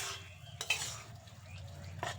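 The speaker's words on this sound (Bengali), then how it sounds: "একটু নেড়েচেড়ে নিয়েছি।" Banana flower curry is stirred in a pan, with a few scraping strokes and a light clink of the spoon over a faint low simmer, quiet and close.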